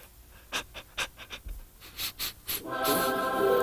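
A man imitates a dog panting with quick, rhythmic breathy huffs that come in a steady series. The huffs then blend into a louder, sustained rushing tone at the end.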